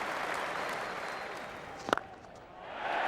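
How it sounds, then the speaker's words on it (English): A cricket crowd at Lord's during an Ashes Test cheers and applauds steadily after a boundary, a broad roar of many people, with a sharp knock midway through. "Big cheer goes up all around this ground."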